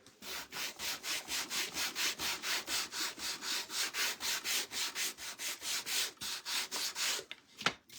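Sandpaper rubs back and forth over dry-brushed wood in quick, rhythmic strokes, about four per second, close and steady for several seconds before a final clunk.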